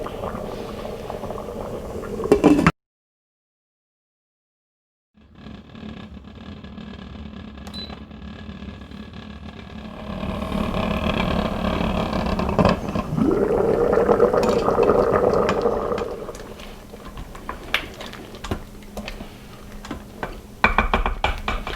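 Red beans with onions and green peppers simmer under the lid of an Instant Pot, a soft steady bubbling and hiss that drops out briefly, then returns and swells with clinks near the end.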